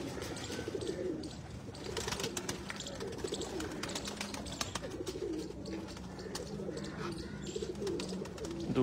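Pigeons coo steadily and at close range, with low, throaty, overlapping calls held against a busy background of birds in a pigeon-keeping setting in Chak Jhumra, Faisalabad. A few short chirps break in now and then.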